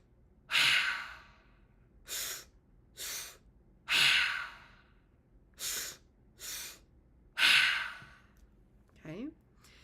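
A breathwork pattern of belly breath, chest breath and exhale repeats as close, loud rushing breaths in groups of three, with the longer exhale closing each round, followed by a faint brief vocal sound at the end.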